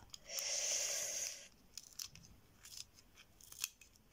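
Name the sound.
cutting with scissors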